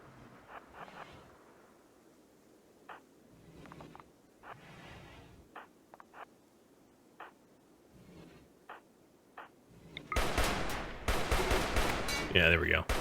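Defensive turrets fire in the colony video game RimWorld, sounding as sparse, faint gunshot pops at first, then a louder, denser burst of rapid gunfire near the end.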